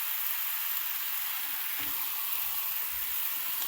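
Water poured into a hot pan of sauce after cooking sardines, a loud, steady hiss of sizzling and steam with a faint scrape of stirring partway through.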